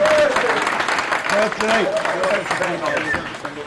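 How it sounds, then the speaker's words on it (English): Audience applause at a talk event featuring a boxer, a steady wash of clapping lasting the whole stretch, with voices calling out and chattering over it. "But please give a round of applause to Carl Everington and his partner Sinead."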